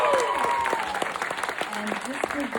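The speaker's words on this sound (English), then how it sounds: "Guys, can we get some applause for that?" Audience applause at a panel at the Grammy Museum about K-pop music, a steady patter of clapping with voices talking and cheering over it.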